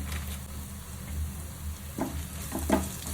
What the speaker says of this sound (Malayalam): ഇത് പോലെ ഒന്ന് മൂപ്പിച്ചെടുക്കാം ഇതിനെ